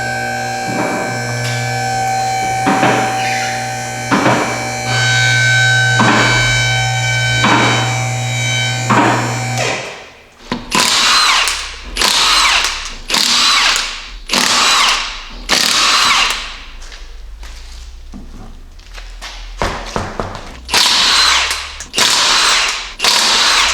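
Power tool removing the wheels from a Jeep Cherokee XJ in a garage: after a steady mechanical hum, a series of loud, close bursts of an impact wrench whir in quick succession, spaced by short pauses.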